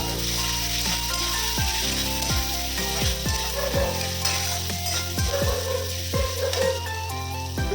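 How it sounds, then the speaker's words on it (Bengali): Chopped onions tip into hot oil already seasoned with bay leaf and cumin, frying with a steady loud sizzle while a utensil stirs and scrapes the pan in repeated strokes throughout. "পেঁয়াজটা আমি তেলের উপর দিয়ে দিচ্ছি।"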